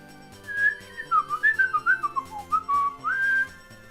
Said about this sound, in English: But the lip whistle